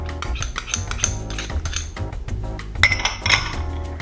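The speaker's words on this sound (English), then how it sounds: "Next, we're gonna mix the eggs, the olive oil" Eggs and olive oil are whisked together in a bowl, and the utensil makes quick, close-up clinks and scrapes against the bowl in a busy, uneven rhythm.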